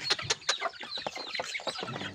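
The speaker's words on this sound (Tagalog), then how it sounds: "Yan yung mga alaga nating mga bibe." Pet ducks on a provincial farm give a quick series of loud, close, repeated calls, each short and sharp, with no one talking.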